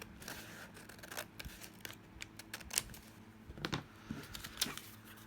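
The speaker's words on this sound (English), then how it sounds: "I can cut through both of those pieces of paper across that line" Scissors cut through two stacked pieces of paper along a line in a series of close, crisp snips and crunches that come in irregular bursts, with no talking.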